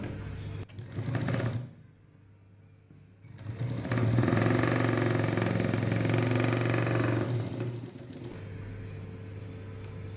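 A sewing machine stitches a seam across layered blouse fabric in a steady, loud motor whir lasting several seconds, followed by a short quieter run and stop.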